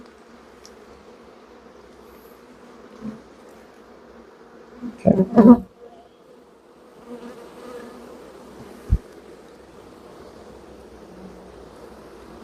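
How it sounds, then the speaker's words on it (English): A low, steady hum of many buzzing honey bees shaken from a hive frame, with a few bumps and handling knocks; a voice says a single word. "As you can see, all these bees are everywhere."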